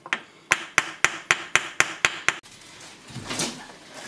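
Eight evenly spaced metallic hammer strikes on the teeth of an ABS ring gear on a Volvo V70, sharp and close, followed by a softer scraping and handling noise.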